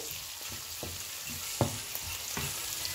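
Chopped tomato going into a frying dal-stuffed bitter gourd filling, a quiet continuous sizzle with a few soft thuds and a sharper clack of a spoon on the pan, no voices.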